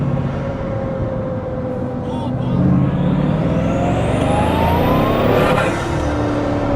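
A Bugatti Chiron Super Sport accelerates hard, its engine rumble building as a rising turbo whoosh and whine climbs steadily in pitch, peaking and then dropping away near the end, heard from close by.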